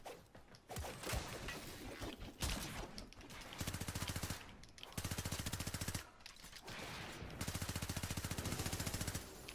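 Rapid video game gunfire in a Warframe Conclave player-versus-player match, with bursts of fast automatic shots broken by short gaps and whooshing effects, loud and close.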